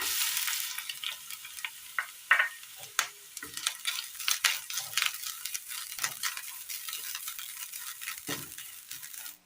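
Grated coconut frying in a little oil in a pan on the stove, a continuous crackling sizzle scattered with sharp ticks and pops as it is stirred, close and without speech.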